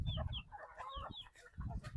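A flock of farm chickens clucks and chatters steadily while being fed grain, close by and continuous, with low scuffling underneath the bird calls.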